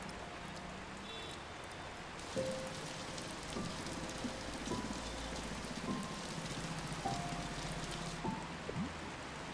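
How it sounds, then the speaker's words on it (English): Rain falls in the video game Until Then, a soft steady patter with scattered heavier drops, faint and continuous throughout. "Oh, starting to rain, are we?"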